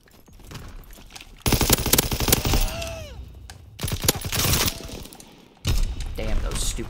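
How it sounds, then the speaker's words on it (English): Loud bursts of video game shotgun fire come in heavy, cracking blasts in three separate clusters with brief lulls between them. A voice briefly speaks under the action. "Damn those stupid shotguns."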